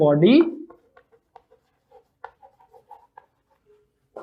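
Chalk or marker strokes tap and scrape on a board during a physics lecture on motion in one dimension, a short series of light, separate marks following a brief burst of speech at the start.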